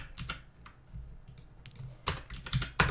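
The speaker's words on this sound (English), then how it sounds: "So what we do is we type config." Fingers type on a computer keyboard, with a few scattered key taps followed by denser bursts of clicking near the end, close and fairly quiet.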